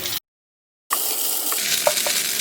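Cooked rice-flour sevai strands dropped into a pan of urad dal, green chilli and curry leaf tempering. After a short silence comes a steady sizzle, with a few light scraping knocks from the spoon as it is stirred.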